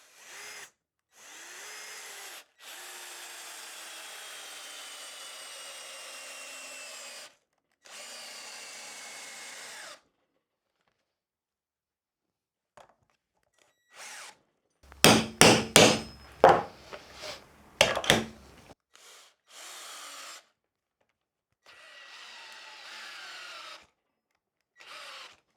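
Ryobi RDD18-0 18V cordless drill-driver driving screws into wood, a loud cluster of short whirring bursts near the middle, with quieter intermittent handling noise before and after.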